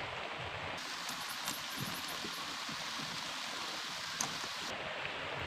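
Steady rain falling outdoors during motorcycle battery work on a Suzuki GD 110, a dense continuous patter with scattered drop impacts, and no voices.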